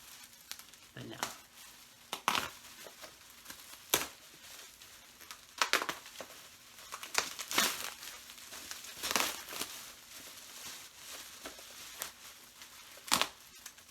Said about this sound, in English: I gotta cut through some more plastic.